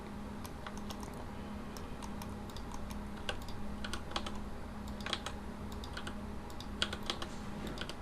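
Computer keyboard keys clicking in quick irregular bursts of taps while a 3D model is edited in Blender, close and fairly quiet over a steady low hum.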